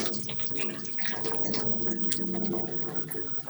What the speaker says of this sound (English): Now I need to drain this water